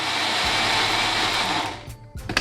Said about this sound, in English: Now cover this up and blend until nice and smooth.